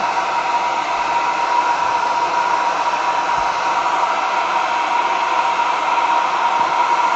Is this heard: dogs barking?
no